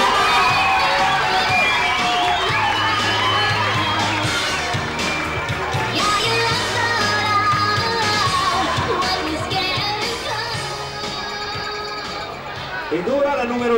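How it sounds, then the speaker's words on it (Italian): Audience at an outdoor Italian beauty pageant cheers and claps loudly and steadily, with shouts and crowd chatter mixed in while music plays underneath throughout. "Un ulteriore applauso."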